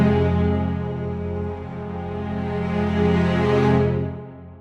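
Cello through a String Contours 2 inverted contour patch: a sustained bowed tone with rich stacked harmonics, growing steadily louder toward a brighter swell before cutting off, alone and without speech.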